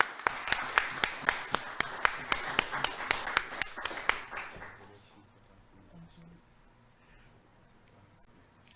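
Audience at a Ramadan quiz award ceremony breaks into brisk, rhythmic unison clapping, loud and close, lasting about four seconds before dying away into room murmur.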